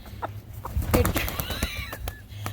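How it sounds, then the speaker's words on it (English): A live chicken, a hen held indoors during a children's science lesson, makes a few soft clucks and short calls over a low steady hum, with faint voices in the background. "It's a chicken."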